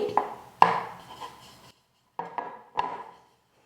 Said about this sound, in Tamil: இப்போ ஒரு இட்லி தட்டை எடுத்து வச்சுக்கிட்டு அந்த இட்லி தட்டில் கொஞ்சமாக நான் வந்து எண்ணெயை வந்து தடவிக்கிறேன்